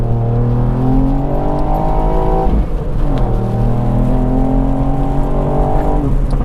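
A Dreamscience-tuned 265bhp Mk8 Ford Fiesta ST accelerating hard in the rain, engine loud and close as it climbs steeply through the revs, a brief dip at a gear change, then pulling hard again.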